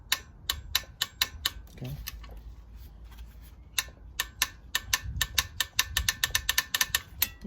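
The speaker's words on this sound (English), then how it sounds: "You have to tighten it, torque specs of 19 foot-pounds." A ratchet wrench clicks in quick bursts of rapid ticking as a 15mm sump plug is tightened on a 2004 Mazda Tribute V6, with a pause between bursts and a brief spoken word.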